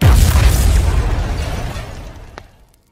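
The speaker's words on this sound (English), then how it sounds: "at that very moment the energy creates a huge explosion." A huge explosion tears through the Power Rangers command center, a loud, close blast with heavy low rumble and crackling debris that rolls on steadily, then fades out after about two and a half seconds, with no voices.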